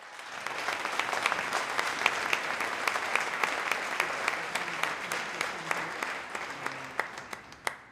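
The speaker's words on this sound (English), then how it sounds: "I know you were clapping for the first gentleman" Audience applause at a civic event honoring the mayor and the first gentleman, steady clapping from a crowd filling the whole stretch, close and even with sharper individual claps standing out.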